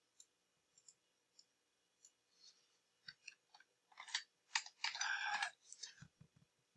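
Typing on a computer keyboard, quiet scattered key clicks at first that build into a dense burst of rapid keystrokes near the middle, then trail off into a few soft taps.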